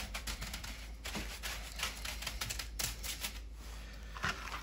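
A salt mixture is spread by hand over parchment in a sheet pan, giving soft, close, irregular gritty scraping and crunching with no talking.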